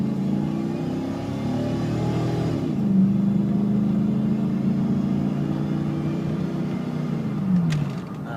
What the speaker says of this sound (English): really nice running truck